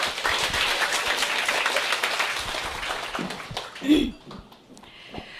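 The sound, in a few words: big applause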